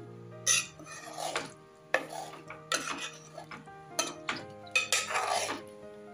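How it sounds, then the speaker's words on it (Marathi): Stuffed eggs are turned slowly in masala in a pan, giving a series of distinct scraping and clinking strokes of a utensil against the pan, irregularly spaced and close, with faint sizzling underneath. "त्या मसाल्यामध्ये आपण अंडी अशी सावकाशपणे परतवून घेऊया।"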